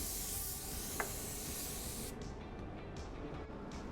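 A spray gun sprays sealer over a repair patch on a car blend panel, a steady close hiss for the first half, then shorter bursts of spray with pauses between them.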